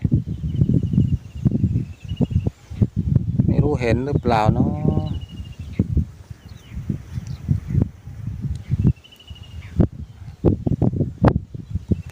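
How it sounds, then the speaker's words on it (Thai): Strong, gusty wind over open rice fields where water buffalo graze, buffeting the microphone in repeated low rumbling bursts while someone talks over it. "ลมแรงมากเลยวันนี้"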